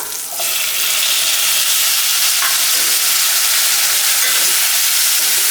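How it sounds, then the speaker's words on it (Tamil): Onions and tomatoes sautéing over a medium flame for a tamarind curry with drumsticks and field beans, producing a steady, loud, close sizzle throughout, with faint stirring scrapes and no voices. "மீடியம் ஃப்ளேம்லேயே வச்சு வதக்குங்க."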